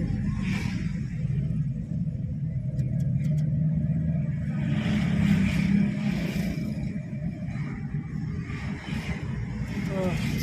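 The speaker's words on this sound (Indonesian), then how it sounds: "banyak sekali ya kendaraan yang mau menuju arah Tasikmalaya juga" A continuous low rumble of many cars and motorbikes moving along a road toward Tasikmalaya during the Eid holiday, engines droning steadily, heard up close from inside or beside traffic while someone talks.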